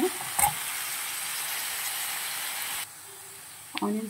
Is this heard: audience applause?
no